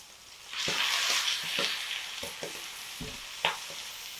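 Italian sausage browning in a pot, a steady hiss of sizzling with scattered scraping knocks of a spoon stirring and breaking up the meat, close and without talk.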